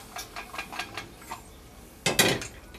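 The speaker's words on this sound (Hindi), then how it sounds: "अब हम सारे घिया इसमें ट्रांसफर करते हैं।" Boiled bottle gourd is tipped from a pot into a pan on a home stove, with a run of light metallic clinks followed by a louder, close scraping clatter of the utensil against the pan.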